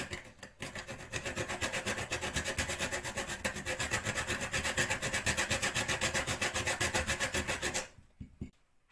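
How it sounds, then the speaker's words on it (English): Whole nutmeg grated on a hand grater for Jamaican cornmeal porridge, a steady rapid rhythmic rasping of many close strokes that runs for about seven seconds and then stops abruptly. "The nutmeg is grating now"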